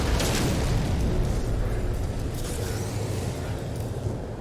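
Continuous heavy booms of rocket explosions in No Man's Sky roll together into a loud, sustained rumble lasting several seconds without talk.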